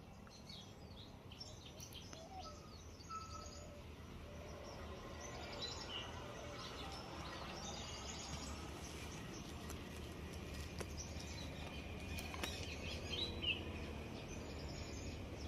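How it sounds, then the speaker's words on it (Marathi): Scattered, faint bird chirps from several birds in a quiet outdoor farm setting, steady low background noise throughout. "किती शांत वातावरण आहे आणि फक्त पक्ष्यांचा आवाज आहे"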